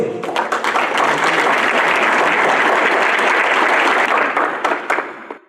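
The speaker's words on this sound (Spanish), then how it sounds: "Dale un aplauso a Cristo" Sustained applause from a church congregation during an evangelism sermon, loud and dense throughout, tapering off at the very end.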